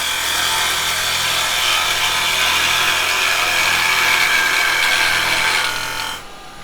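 Pine plant pot being turned on a wood lathe with carbide chisels, a loud, steady bright scraping hiss of cutting, close and continuous before stopping abruptly near the end.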